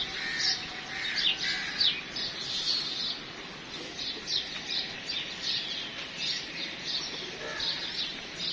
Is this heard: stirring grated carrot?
no